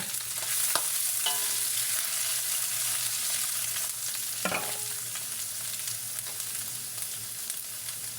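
Dry mushrooms stir-fried in a pan for kiampong, a steady sizzle broken by a few sharp scraping clinks of the spatula against the pan.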